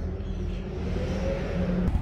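Motorcycle engine running and revving steadily at close range before a long road trip, a continuous low throaty drone with slight rises in pitch, no talking.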